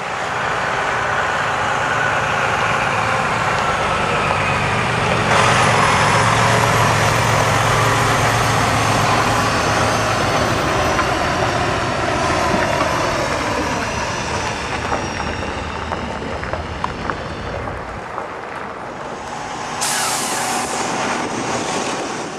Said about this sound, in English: Here comes the massive fire engine red wrecker, a real beauty, capable of pulling